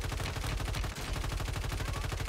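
Rapid automatic gunfire in Warzone 3, a fast steady stream of sharp shots with a barely noticeable break midway, loud and continuous with no talking.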